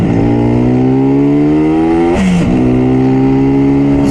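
A 1967 Yamaha YR1 two-stroke motorcycle revs loud and close, its whining engine climbing steadily, dipping briefly mid-way, then rising again.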